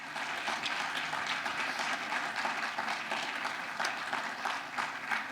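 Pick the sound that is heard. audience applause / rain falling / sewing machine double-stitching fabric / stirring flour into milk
audience applause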